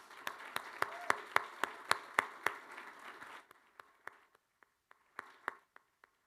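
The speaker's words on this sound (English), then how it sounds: "Let's give her a much-deserved round of applause" Applause at an athletics director's introductory press conference, a modest room of clapping that starts fairly full, then dwindles to sparse, isolated claps trailing off.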